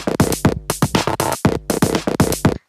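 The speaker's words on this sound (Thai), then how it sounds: "เสียงนี้ครับเสียงซาวด์เบส" A punchy, rhythmic bass sound played on a Pioneer Toraiz SP-16 sampler: a fast run of close, loud, evenly spaced pulses that stops abruptly near the end, with no voices.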